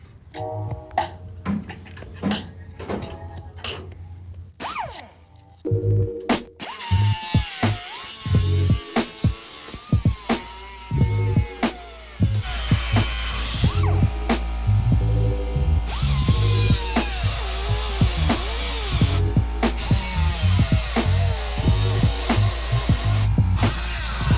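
A power tool cuts old parts off a 1968 Mustang being prepped for an Explorer 5.0 V8 swap, a loud, steady grinding whine with a low throbbing hum, broken by brief pauses and restarts, with no talking.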